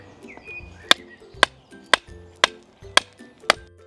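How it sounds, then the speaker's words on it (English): Six sharp hammer blows drive a wooden stake into the ground at a steady pace, each a loud close thwack with a brief ring, with quiet gaps between them. "let's hammer this stake in."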